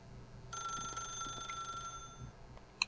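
An old-style telephone bell rings in The Stanley Parable video game, a steady bright electronic trill holding for over a second over a faint room hum, then stopping.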